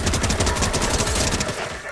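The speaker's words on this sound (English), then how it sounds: "Yeah, I'm shooting at the llama." Rapid bursts of video-game gunfire aimed at a llama, dense automatic shots in a steady rattling rhythm that thin out near the end, loud and up close with no talking.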